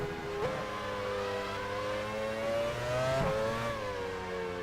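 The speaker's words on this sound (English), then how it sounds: "We've got enough car revving on the screen right now" Formula One car engines from the racing game F1 Challenge 99-02 rev and whine continuously at a loud, steady level, pitch sliding up and down as they shift through gears, at the 1999 British Grand Prix.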